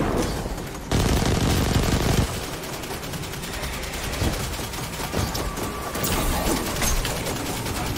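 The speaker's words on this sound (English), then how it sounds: "I'm gonna just start dumping the rockets onto him." Rockets fired at a boss in Destiny 2 crack out as loud, dense volleys of blasts and mechanical clatter, with a heavier burst near the start and steady heavy firing throughout.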